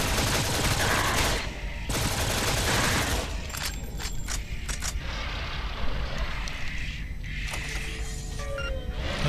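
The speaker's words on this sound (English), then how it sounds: "Minigun is shooting the wall, isn't it?" Rapid sustained automatic fire from a minigun in the PC shooter Shadowgrounds, a dense continuous roar of shots that breaks off and resumes with shorter bursts, loud and close throughout.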